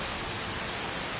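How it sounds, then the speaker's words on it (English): Steady, dense rainfall from the game Skyrim, a close, even hiss of drops on surfaces with no gaps and no talking. "They got this extremely real rain and stuff, yeah."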